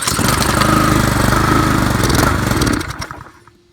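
A Craftsman weed trimmer fitted with a swapped-in Honda engine, running loud and close with a rough, buzzing roar for nearly three seconds before sputtering down and dying away.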